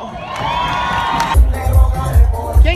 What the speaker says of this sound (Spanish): El aplauso para este chavalo.